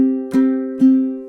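Two ukulele strums ring out close and clear, measure 30 of a song played alone, each chord sustaining until the next stroke.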